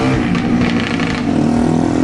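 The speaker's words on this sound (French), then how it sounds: "Petite moto." A small motorcycle passes close by, its engine a loud, continuous buzzing drone that fills the whole moment with no talking over it.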